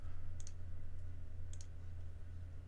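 Computer mouse clicks while working in ProNest software, two quick double clicks about a second apart, close and crisp over a steady low electrical hum.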